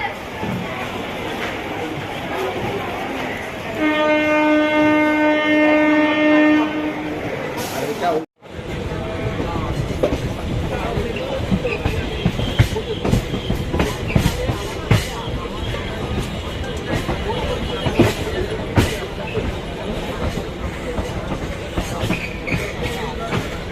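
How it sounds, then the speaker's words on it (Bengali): Interior of a moving train during a ride in heavy rain, a steady rumble and rattle with faint rhythmic clatter, a brief tonal beep early on, then ongoing chatter of people over the running train. "এখানে আমি ট্রেনে উঠে পড়েছি"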